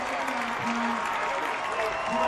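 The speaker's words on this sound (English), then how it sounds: "That's got this crowd fired up." Football crowd at a Londonderry vs. Pinkerton high school game roars after an interception return, a broad steady cheer with applause filling the whole stretch, while a commentator talks over it.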